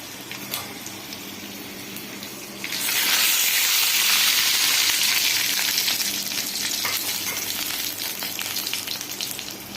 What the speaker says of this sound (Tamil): மிளகாய் கொஞ்சம் பொரிஞ்சிருச்சு